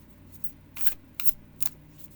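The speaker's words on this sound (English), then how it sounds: "there's just a multitude of ways you can shuffle a deck" A deck of oracle cards being shuffled indoors, heard as three or four quick riffling bursts spaced about half a second apart over a quiet background.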